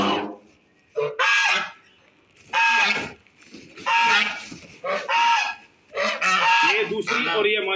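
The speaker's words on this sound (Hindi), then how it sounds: "ये देखें माशाल्लाह कितनी खूबसूरत डक्स है हमारी" Several ducks newly unpacked from a crate honk and quack loudly in repeated bursts separated by short pauses, close to the listener, with little talk.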